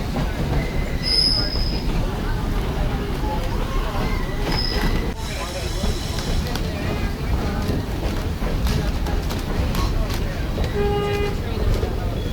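A narrow gauge 1880 Train in South Dakota runs along the line in a steady rolling rumble, with high wheel squeals and a few short whistle toots.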